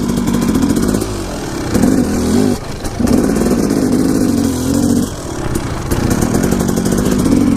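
Motorbike engine droning loud and close while riding a trail during the Turkey Trot 2018 event, with a steady cruising hum that dips and swells briefly as the throttle eases and picks up again.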